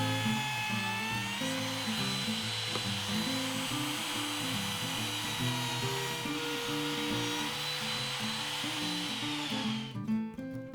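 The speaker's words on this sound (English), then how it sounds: "use a chamfer bit in the router to add a decorative edge" A router fitted with a chamfer bit whines at high speed as it cuts a decorative edge into a dense Ipe decking board, forming a loud, steady near drone with slight load shifts that ends abruptly as the tool stops.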